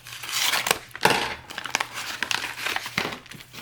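Close, loud crinkling of packaging with sharp snips and crunches as a package is cut open with scissors, in uneven bursts with brief pauses.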